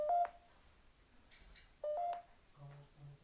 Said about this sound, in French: Non, mais arrêtez de taper sur mon téléphone.